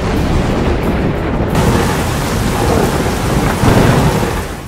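Heavy rain and gusting wind from Cyclone Biparjoy near Karachi roar as a loud, continuous broadband wash, with surges and rumbles swelling and easing over a few seconds.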